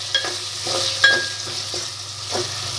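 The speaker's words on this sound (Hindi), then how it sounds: "अभी मैंने मटर लिए, मैं मटर डाल रही हूँ।" Peas are stirred into a pan of sizzling garlic ginger paste for tomato rice, giving a steady close frying hiss with scattered soft scraping taps and no talking.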